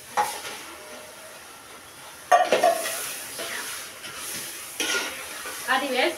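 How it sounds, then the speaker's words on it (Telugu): A kilo of washed chicken pieces fries in masala in a pan, a close, steady sizzle broken by loud scraping stirs and clanks of a utensil against the pan. "అది వేసుకున్నాక కొద్దిసేపు ఈ మసాలా పట్టేంత వరకు బాగా వేపుకోవాలండి"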